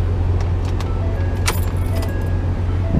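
A car key goes into the ignition of a soundproofed Raptor truck. A few bright metallic jangles and clinks of the key ring sit over a low, steady cabin hum.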